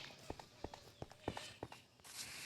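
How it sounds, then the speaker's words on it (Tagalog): Hooves of a horse walking, used for riding to school, landing in a steady clip-clop rhythm of sharp, close knocks, about eight distinct steps before a burst of hiss at the end. "At ngayon pupunta na ako ng school gamit ang kabayo."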